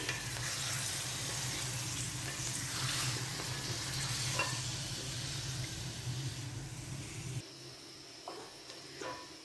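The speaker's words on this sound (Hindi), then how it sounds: "अब यहाँ पे हम 4 से 5 मिनट के लिए इनकी भुनाई करेंगे।" Mutton pieces with garlic-ginger paste fry in a karahi, giving a loud, continuous sizzle with stirring scrapes. The sizzle drops to a quieter hiss near the end, with occasional clinks.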